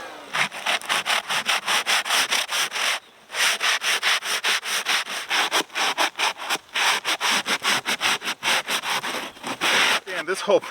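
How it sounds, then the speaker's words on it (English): Foam sanding block rubbed back and forth along the edge of an aerated concrete beehive, a steady run of quick rasping strokes, close and fairly loud, with one short pause partway through and a few scrapes at the end. "Now I have a little foam sanding block I'm going to run along there to try to even things up"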